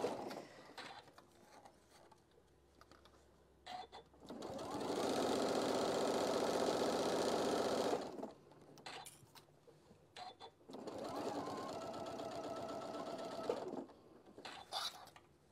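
A sewing machine stitches fabric along a quilt template for a petal design, running in two sustained bursts with short pauses and softer handling noises between them, fairly close.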